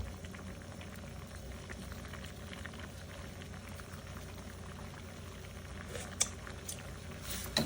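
A pot of fish curry boils with a soft, steady bubbling and faint liquid patter throughout, low and close, ending with a couple of brief clinks.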